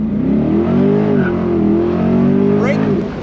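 Chevrolet Corvette C8 pulling away hard under launch control, a loud sustained engine roar rising in pitch as it accelerates, with passengers talking and reacting over it.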